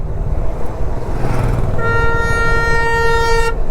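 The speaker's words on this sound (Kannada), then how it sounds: "ಇಲ್ಲಿ ಅವನು ಒಳ್ಳೆ ಟ್ರೈನ್ ಥರ ಹಾರ್ನ್ ಹೊಡಿತಾ ಇದ್ದಾನೆ" A vehicle horn sounds on a road ride from Pollachi to Valparai, a loud sustained tonal blast like a train horn lasting under two seconds, rising over steady road and wind rumble.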